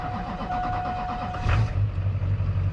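A Duramax diesel truck engine cranks and catches, then settles into a loud, steady idle close by, with no talk.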